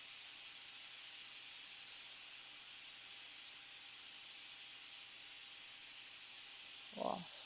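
A pressure cooker lets off steam in a steady, faint, continuous hiss that barely changes, with a brief soft knock near the end.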